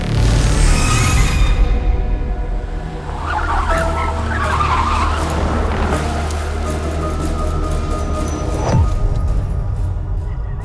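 A car skids and brakes hard to a stop in an action movie scene, a loud tire screech with engine noise swelling over several seconds, no voices.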